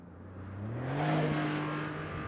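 Porsche 911 Turbo S hybrid on a race track, its engine note rising steadily as it accelerates and swells louder, then holding a strong sustained roar.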